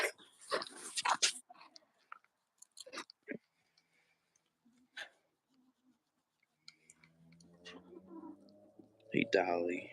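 Goats eating at close range, with soft chewing and clicking bites in scattered bursts, while a person talks at the start and again near the end.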